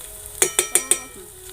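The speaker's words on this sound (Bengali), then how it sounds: "তো পেঁয়াজটা ভাজা হোক" Onions cooking in a pan on a clay stove, with four quick metallic taps of a utensil against the pan in a row over a faint background sizzle.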